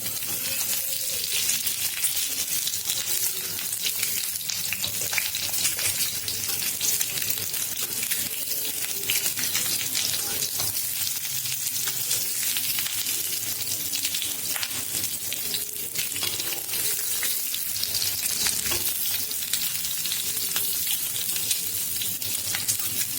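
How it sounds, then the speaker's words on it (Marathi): Eggs frying in a little oil for a dhaba-style egg masala, giving a steady, dense crackling sizzle that runs unbroken and fairly loud throughout, with no voices. "फ्राय करून घ्यायचे छोट्याशा तेलामध्ये"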